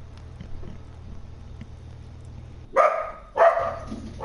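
Dogs bark in two loud, close bursts late in the clip, following a quiet stretch with a low steady hum.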